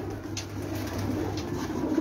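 Champion pigeons coo softly on a rooftop, a low murmuring call rising and falling over quiet surroundings.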